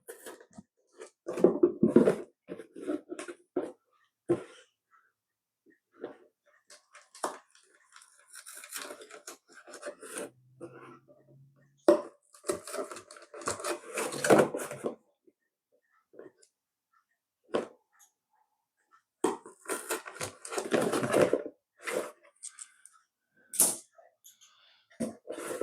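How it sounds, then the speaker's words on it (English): Holes poked through a wine box, heard as close scratchy scraping and creaking bursts separated by quiet pauses, with a few sharp taps and clicks between them. "Poke the holes through."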